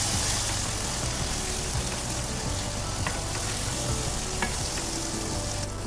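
Biryani masala frying in a pan with yogurt just added and stirred in, producing a loud, continuous sizzle with soft stirring scrapes throughout.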